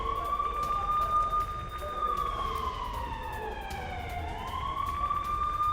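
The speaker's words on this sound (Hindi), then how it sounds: "जम्मू में सायरन बजने की खबर है" Air raid siren sounding in Jammu during a blackout amid the India Pakistan conflict, a steady wailing tone that falls and rises again, heard over a broadcast with background noise.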